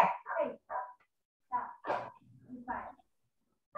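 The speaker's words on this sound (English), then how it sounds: "Dog sees something outside." A dog in a home kitchen barks at something outside: a handful of short, sharp barks and yips in quick bursts with brief pauses, fairly close.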